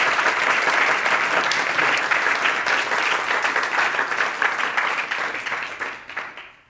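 A conference audience at a Climate One event gives the crew a round of applause: thick, continuous clapping from a large crowd holds steady, then thins and fades out over the last second.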